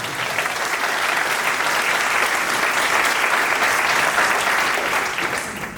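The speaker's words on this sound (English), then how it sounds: "please give a round of applause for our guests of honor, Peter Block and Frank Sabatella." Dense, steady applause from an audience greeting the guests of honor at a film professionals' event, a loud continuous wash of many hands clapping with no gaps throughout.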